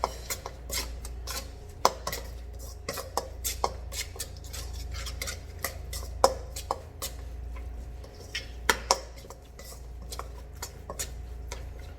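Kimchi ingredients being tossed together in a bowl, giving a steady run of light clinks and wet clatters with sharper knocks every second or two over a low background hum.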